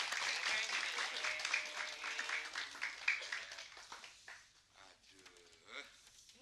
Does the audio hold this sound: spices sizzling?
no